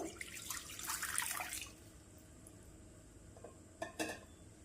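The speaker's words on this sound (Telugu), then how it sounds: "బాండి పెట్టుకొని ఒక గ్లాస్ నీళ్ళు వేసుకుందాం" A glass of water pours into a kadai for about a second and a half, a bright splashing rush, then quiet with a couple of small clinks near the end.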